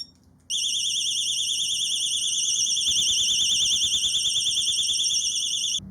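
Piercing and loud, a Xena XX14 disc lock alarm starts abruptly and wails on as a continuous warbling siren for several seconds, close to the listener with no speech.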